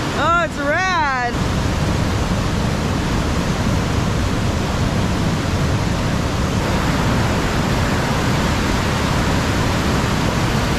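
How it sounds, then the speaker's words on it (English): A big, loud rushing river heard from close by, a dense unbroken roar of water that fills the whole stretch; a brief voice exclamation comes at the start before the roar takes over. "wow, the river is big. It is so loud down there."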